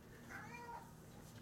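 A tabby cat in an attic lets out a faint, drawn-out meow, a single short call heard alone against quiet background hiss.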